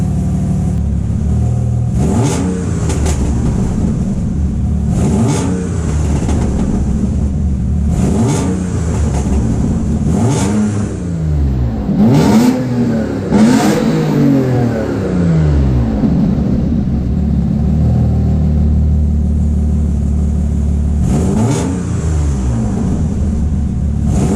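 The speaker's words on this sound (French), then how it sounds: "Je vais donner 2-3 petits coups de gaz" An Alfa Romeo 156 2.5 V6 24v with a homemade decat pipe idles with a low rumble, then revs up sharply a few times, the pitch climbing and dropping back between blips.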